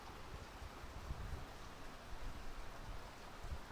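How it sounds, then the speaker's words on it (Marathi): Light monsoon drizzle falls outdoors in the Konkan countryside, a steady soft patter of rain with faint rustling and a little wind, continuous and even throughout without any voices. "बाहेर मस्तपैकी पावसाची रिमझिम रिमझिम चालू आहे"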